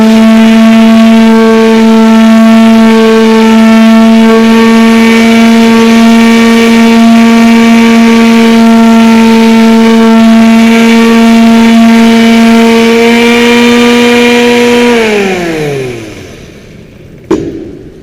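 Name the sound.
power sander with 80 grit sandpaper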